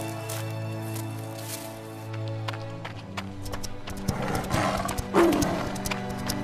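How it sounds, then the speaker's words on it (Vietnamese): A fierce wolf growls and snarls in an animated 3D cartoon, rising over a sustained musical score with thumps and rustling in the second half. "Thôi nguy to, sói dữ."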